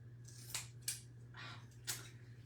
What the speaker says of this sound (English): Oh, I hate scissors.